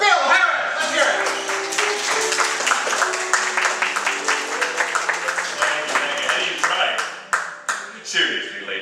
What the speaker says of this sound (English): you're all applauding